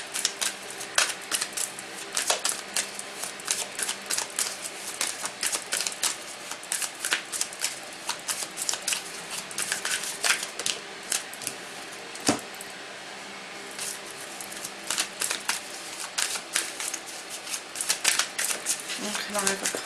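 Tarot cards shuffled by hand in a steady run of crisp riffling flutters and soft slaps, close and fairly quiet, repeating throughout with a few sharper taps.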